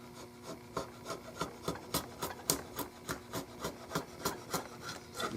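Steady back-and-forth rasping strokes as a hand rasp files excess wood from a milled area of a Model 12 H&R target rifle stock, a regular rhythm of about two strokes per second, close and alone.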